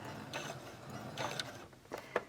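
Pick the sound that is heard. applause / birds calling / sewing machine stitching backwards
sewing machine stitching backwards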